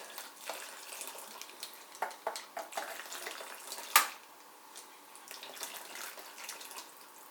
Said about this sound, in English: running boiling water over it.